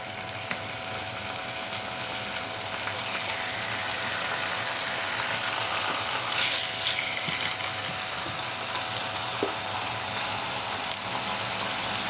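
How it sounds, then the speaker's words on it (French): Duck strips frying with onion and garlic in a pan over high heat, a steady, fairly quiet sizzle and hiss with a few small pops and crackles, no talking. "ensuite on ajoute les aiguillettes de canard dans la casserole"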